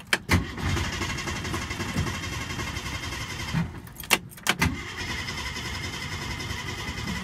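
Engine of a 1964½ car, likely flooded, cranking steadily in long churning bursts broken by brief clicks and pauses as it tries to start but does not catch.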